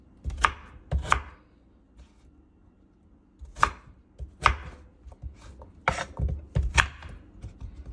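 A small, not very sharp knife chops through raw cassava on a board, giving close, sharp thunks that come in pairs and short clusters with quiet gaps between them.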